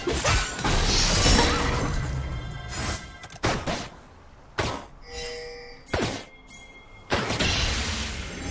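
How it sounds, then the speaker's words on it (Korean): A turret is destroyed in League of Legends, with a loud crashing collapse and rumbling debris followed by several sharp thunks and metallic impacts, with game effects ringing between the hits. "파랑 팀의 포탑이 파괴되었습니다."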